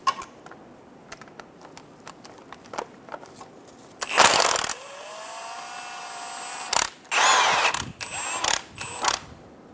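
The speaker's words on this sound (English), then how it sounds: "Remove the two 14mm bolts on the side of the transmission for the transmission mount." Ratcheting and power-tool whirring while 14mm transmission mount bolts are removed on a 2003-2007 Honda Accord 3.0L V6, with rapid close ratchet clicks followed by two loud sustained bursts of spinning tool noise.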